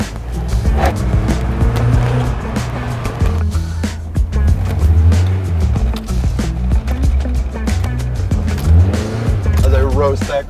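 A lifted Mazda Miata rolls over a curb, its engine droning and revving beneath thumps and clattering knocks from the suspension, with voices calling out over the noise.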